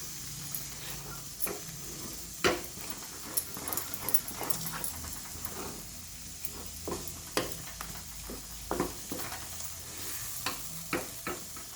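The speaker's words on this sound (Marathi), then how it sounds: "घट्ट गोळा होईपर्यंत आपण हे पीठ शिजवून घेणार आहोत" Dough is stirred and cooked in a pan over a medium flame, irregular scraping and knocking strokes with a faint sizzle, quiet and close, and no voices.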